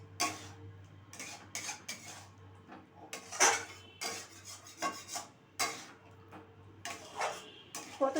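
A spice paste is stirred and sautéed in a pan for potato dum, with a utensil repeatedly scraping and clinking against the metal in irregular bursts over a quiet background, fairly close, with no talk.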